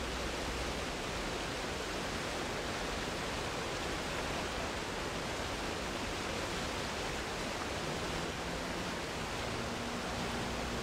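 Broadband rushing water pours over a low head dam on the Jordan River near 6500 South, a dense, steady roar that holds evenly throughout with no voices.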